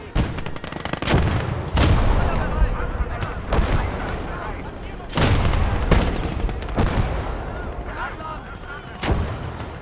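Tank cannons firing in a WWII video game battle set during the Fall of France, with several loud, booming shots spaced a few seconds apart over continuous rumbling gunfire and battle noise.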